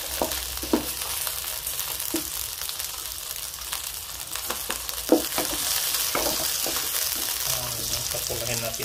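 Garlic sizzles steadily in a hot pan as vegetables cook with coconut milk, with occasional clacks from a utensil stirring against the metal, and a short burst of speech near the end.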